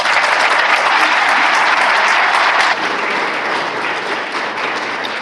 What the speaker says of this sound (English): please give Cecilia a round of applause